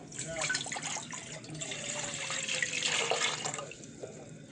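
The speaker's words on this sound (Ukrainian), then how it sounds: "Беремо лимонну кислоту, засипаємо в каструльку і заливаємо водичку." Water poured from a tap into a small saucepan holding citric acid, a steady splashing fill in a kitchen with faint background voices.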